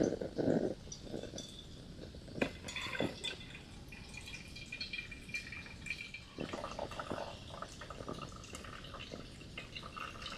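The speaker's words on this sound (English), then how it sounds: "I just need to wait for the water to drain all the way through those coffee grounds." Water drains through coffee grounds in a Stanley pour-over brewer with irregular close drips and gurgles, soft trickling sounds scattered across the quiet.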